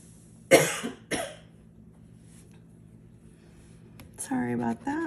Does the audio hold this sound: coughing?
yes